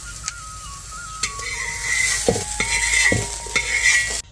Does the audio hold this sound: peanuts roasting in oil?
yes